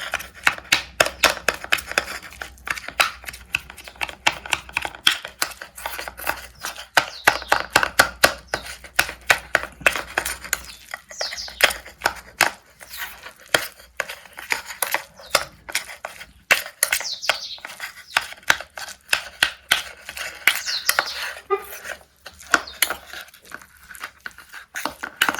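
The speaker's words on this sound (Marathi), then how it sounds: "असं आता हे दोन्हीचा एक जीव होईपर्यंत आपल्याला त्याला असं मिक्स करत राहायचं आहे." Two ingredients for a cooling Ayurvedic remedy being mixed by hand in a bowl, giving a continuous run of close, dense, crisp clicking and scraping strokes with no talk.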